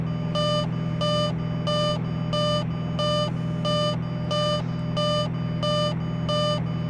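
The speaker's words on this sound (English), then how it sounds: "your throttle comes back far enough, you get a warning that your gear needs to come down" A Bonanza cockpit landing gear warning sounds in the X-Plane flight simulator, a steady string of about ten evenly spaced, bright electronic beeps repeating over the constant low drone of the engine.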